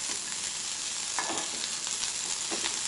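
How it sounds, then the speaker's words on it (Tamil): Sliced onions sautéing in a pan toward golden brown, a steady bright sizzle with a couple of soft stirring strokes, close and constant. "இது நல்ல வெங்காயம் நல்லா பொன்னிறமாக வர்றது வரைக்கும் நல்லா நம்ம வதக்கணும்."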